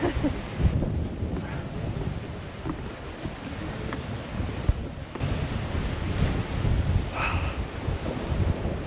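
Ocean waves rolling onto El Matador Beach in Malibu at high tide, a continuous loud wash of surf mixed with heavy wind buffeting the microphone.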